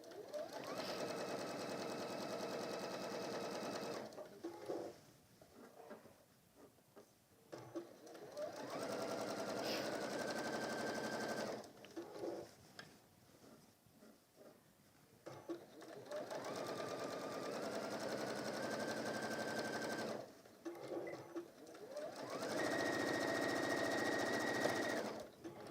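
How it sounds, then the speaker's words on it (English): A sewing machine stitches around the top of a fabric mug carrier in four or five sustained runs of steady whirring, stopping and restarting between them, heard up close with brief pauses. "sew around the top. So stopping every now just to give myself a straight edge to sew along."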